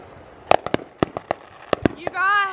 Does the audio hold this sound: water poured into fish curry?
no